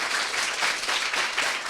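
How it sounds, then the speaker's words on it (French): An audience at a Guinean school event on philosophy and literature claps for a man, steady and dense applause filling the short stretch, with no voices. "Applaudissez pour ce monsieur encore"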